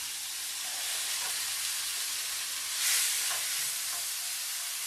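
Poblano peppers go into a pan of sizzling garlic and onions, giving a steady bright frying hiss with a few soft stirring clicks and one louder sizzle burst partway through.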